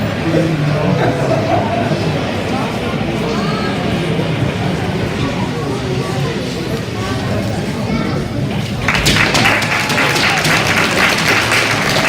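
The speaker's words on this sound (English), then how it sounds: "Thanks for your applause for these young people." Applause for young exhibitors at a lamb and goat livestock show: sustained clapping in a busy, echoing hall, mixed with crowd chatter and children's voices, swelling louder toward the end.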